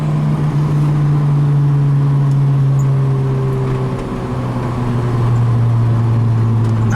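A Nissan Sentra B13 pulls hard in second gear from about 35 to 60 mph, its engine note loud, steady and close, with the pitch climbing gradually throughout without a break.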